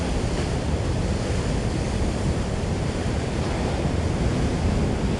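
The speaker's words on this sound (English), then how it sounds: "let your mind hear the waves" Ocean waves on a shore, a dense, steady wash of surf noise, loud and continuous with no distinct breaks and no voices.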